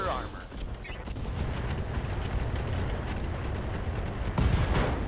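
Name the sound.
AC-5 ammo explosion in RogueTech video game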